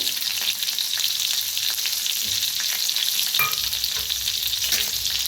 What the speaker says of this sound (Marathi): आता छान मिरच्याला भाजून घेऊया.